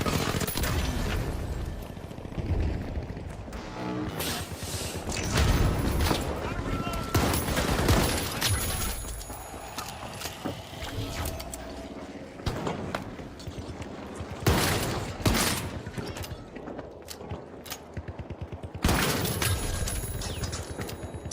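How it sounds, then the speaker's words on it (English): Video game shotgun blasts and rapid gunfire boom out in repeated loud bursts over a busy game soundtrack, with voices talking at times beneath the shots. "Try the shotgun."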